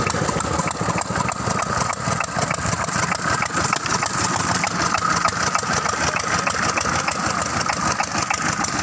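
A Petter engine drives a cement block mixer at a block-making yard in Sargodha, a steady, dense, unbroken mechanical chug that runs loud and close from start to finish with no voices.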